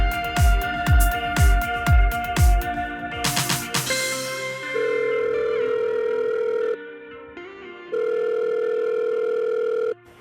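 Telephone sounds during a call: a burst of rapid rhythmic ringing pulses, then a steady continuous dial tone that cuts off and resumes, with short pauses between, clear and close.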